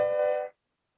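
A trombone plays a minor triad built on scale degrees 2-4-6 in C, a brief half-second brass note that stops abruptly and leaves silence.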